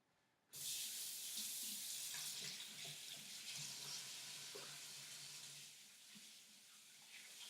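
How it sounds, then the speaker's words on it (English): Water runs steadily from a kitchen tap while hands are washed beneath it, a continuous close splashing hiss that starts abruptly and carries on with faint handling sounds, no voices. "I'm going to wash my hands really quick so I can open that."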